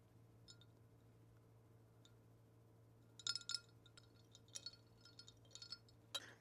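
A drinking glass from the Japanese homeware shop Lakole is handled, giving a few soft, close clinks and taps, faint at first, then a denser cluster of small glassy knocks near the end, with no talking.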